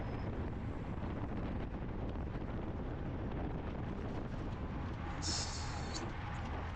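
Steady broadband wind roar buffets the microphone of a cyclist racing in a circuit race sprint at Pacific Raceways, constant and loud throughout, with brief faint voice traces in the background.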